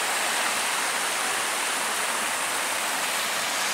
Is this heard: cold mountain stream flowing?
yes